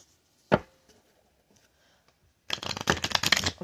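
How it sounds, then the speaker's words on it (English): A deck of playing cards is shuffled close by: one sharp snap near the start, then a dense rapid riffle of flicking cards filling the last second, with no talk. "I'm going to do one more shuffle."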